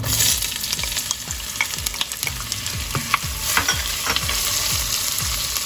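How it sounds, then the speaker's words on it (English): Onions, garlic and carrots go into a hot pot for a vegetable mushroom stew, sizzling steadily while a utensil stirs and scrapes in quick, repeated strokes, close up with no talking. "so now we're gonna be adding our onions,"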